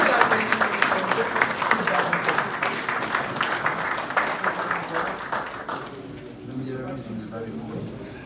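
Audience applause welcoming Ronald Basile at a launch ceremony for a chair in protection and security law in Haiti, a dense burst of clapping that fades out after about six seconds, leaving room tone and faint murmuring.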